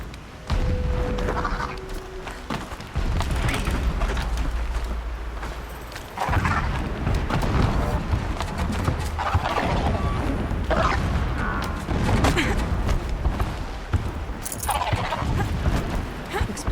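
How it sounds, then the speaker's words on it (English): Distant explosions in Horizon Zero Dawn rumble as low, dull booms and thuds under steady outdoor ambience, several of them spread across the span with a faint mechanical hum in between. "Explosions in the distance."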